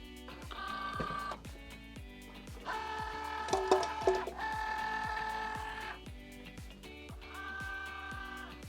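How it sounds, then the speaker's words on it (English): A Cricut Joy cutting machine draws in its cutting mat with repeated soft motorized whirs and steady rhythmic ticking, pausing and restarting in several bursts. A few sharper clicks mark the middle, all fairly quiet and close. "And then we can load the mat into the Cricut Joy"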